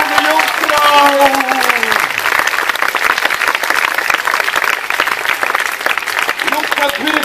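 Thunderous audience applause at a stage show, loud rapid clapping that fills the whole stretch, with a speaking voice at the start fading under it.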